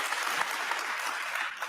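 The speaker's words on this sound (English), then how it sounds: "decidedly liberal audience clapping like hell for this guy" A large, enthusiastic audience claps and applauds steadily throughout, a dense, even wash of hand claps at a live event with Elon Musk.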